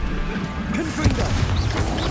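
Blasting spell explosion in the video game Hogwarts Legacy: a sharp crash-like burst with a booming low thump, surrounded by ongoing game combat noise and rumble, loud and close.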